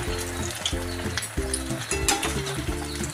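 Chicken wings sizzle steadily in a pan as sauce goes in, a continuous close frying hiss under a low droning background, with no talking.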